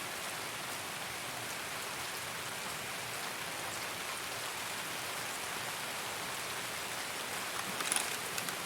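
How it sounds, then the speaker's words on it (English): Steady, even rain hiss in the Escape from Tarkov game world, a dense wash of falling drops with no voices over it, holding at the same level throughout. "This rain is going to be interesting."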